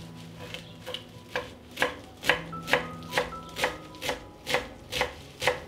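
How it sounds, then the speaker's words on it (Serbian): Steady knife chopping of a bunch of fresh parsley on a cutting board, a dozen or so crisp, evenly spaced strikes, close and clear with no talking. "iseckat ću 1 vezu svežeg peršuna"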